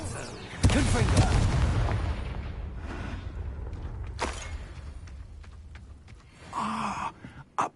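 Confringo blasting spell in Hogwarts Legacy, a sudden loud explosive burst followed by a decaying rumble, with a few later thuds and a voice groaning near the end.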